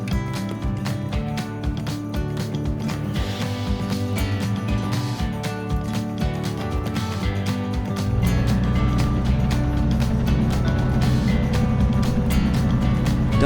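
A small airplane's engine idles through pre-flight checks before takeoff at Dulles, a steady low drone with rhythmic pulsing that shifts to a heavier, fuller roar partway through, heard from inside the cabin without talking.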